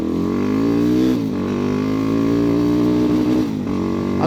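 Megelli 250r motorcycle engine fitted with a cone filter roars loud and close under load, its pitch climbing steadily with brief dips at clutchless gear shifts.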